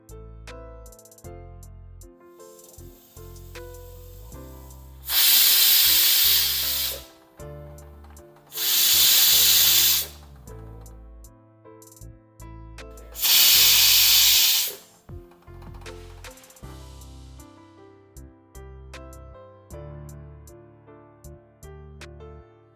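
Three loud bursts of hissing steam from a pressure cooker whistle cooking plain dal, each lasting a second or two, separated by pauses, with soft music playing underneath throughout.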